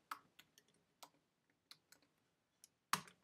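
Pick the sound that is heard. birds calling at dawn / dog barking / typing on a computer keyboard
typing on a computer keyboard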